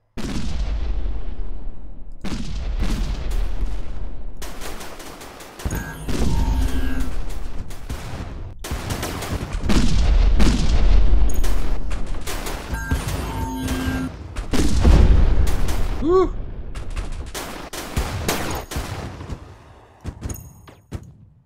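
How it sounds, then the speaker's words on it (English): Rapid artillery fire from a StarDrive 2 space battle, a string of loud booming shots and blasts in irregular bursts, some overlapping into heavy volleys with metallic ringing tails between them. "Is that artillery shots,"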